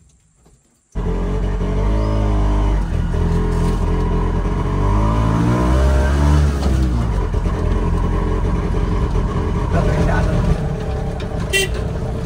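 A car engine starts and runs loudly and close, its pitch rising and falling as the accelerator is pressed, with a horn-like tone and people talking over it.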